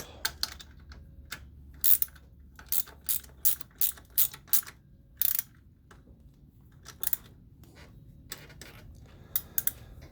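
A hand ratchet tightens brake bolts on a 2010 Polaris Sportsman 500 HO ATV, with bursts of sharp, close clicking in quick runs separated by short pauses.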